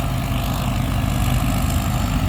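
A six-cylinder J08C diesel engine in a tuned rice combine harvester runs at a steady low rumbling idle, close and loud, with no talking.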